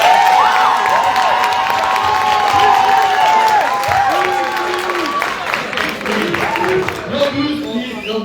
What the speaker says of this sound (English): give it up for the professors